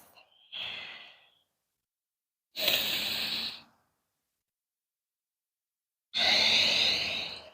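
Three slow, breathy exhalations during a gentle beginner yoga twist, each about a second long, separated by quiet pauses, close and soft with airy hiss and no words.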